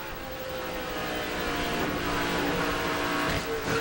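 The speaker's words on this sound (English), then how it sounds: "Ooh, there's the contact with Taylor Malsom, then hard contact with the outside wall" An ARCA race car strikes the outside wall hard during the 2008 ARCA ReMax 250, a loud crash under the continuous roar of racing engines and crowd noise, with no talk.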